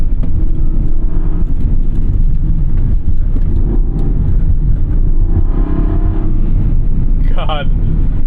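A 2009 Aston Martin V8 Vantage's naturally aspirated V8 drones loudly and steadily from inside the cabin, with a brief rising rev near the end.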